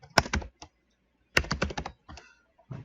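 Keys clack on a computer keyboard in two quick bursts of close, crisp typing, separated by a short pause and followed by a few scattered keystrokes.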